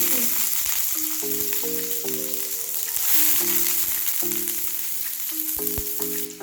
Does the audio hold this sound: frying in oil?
yes